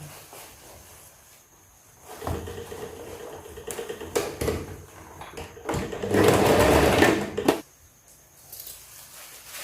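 Sewing machine stitching a disposable nylon hair bonnet, running in short bursts of fast whirring stitches, with a longer louder run near the end and quiet pauses between.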